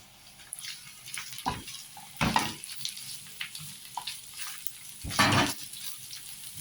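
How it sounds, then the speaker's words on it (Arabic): Sautéed onions in a pan for chicken musakhan hiss and sizzle steadily up close, broken by several louder bursts of rushing, watery noise and occasional spoon scrapes. "هسه هاي شوحت البصل"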